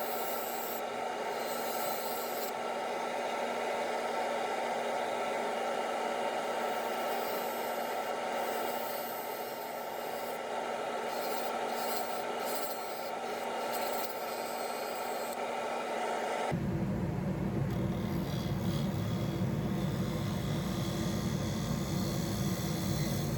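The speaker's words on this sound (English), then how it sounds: "back with the bowl gouge to do some pull cuts and shear scraping as well to round over the corner" A bowl gouge shear-scrapes and pull-cuts a spinning wooden hollow form on a lathe, producing a continuous close rubbing hiss over the lathe's steady hum, with a deeper, rougher tone for the last few seconds.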